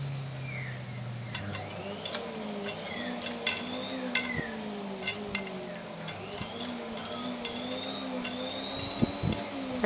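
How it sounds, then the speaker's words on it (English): A fluorescent light tube run through a transformer gives off a steady whizzing, whining hum with shifting pitch, punctuated by scattered clicks and small pops, all close and moderately loud. "It's resonating through the transformer, making a little whizzing sound."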